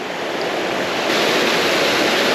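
A small waterfall on a trout creek pours close by, a loud continuous rushing hiss without speech.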